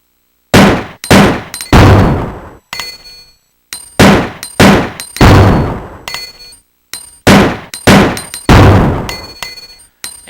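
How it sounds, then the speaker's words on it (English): Browning HP handgun fired by Ada in Resident Evil 2, a string of about a dozen loud, sharp shots in quick groups of two or three, each with a short ringing metallic decay, separated by brief pauses. "So here's Ada using the Browning HP"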